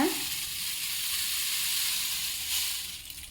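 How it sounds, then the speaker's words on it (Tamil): Curry leaves go into a hot pan of dry-roasted ingredients for a herbal powder, giving a sudden close hiss that settles into a steady crackling sizzle without speech. "கருவேப்பிலை போட்டுக்கலாங்க"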